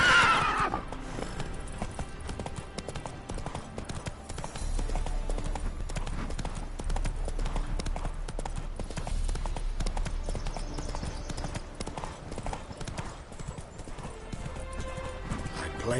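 Horse hooves clip-clop at a steady gallop with neighing in a PS4 video game, playing continuously under game music and ambient sound.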